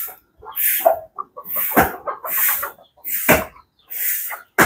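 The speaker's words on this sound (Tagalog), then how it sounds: "may manok na pumisa." Hen with newly hatched chicks calling nearby, a series of short bright clucks and peeps in bursts with brief gaps, fairly close and clear.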